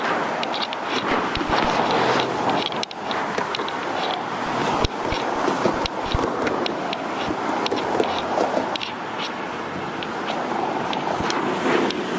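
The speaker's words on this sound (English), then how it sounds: "that's a commuter train coming by" A steady, loud rumble with rhythmic clacking as a commuter train rolls past nearby on a Toronto street, continuous throughout with wind-like noise layered in.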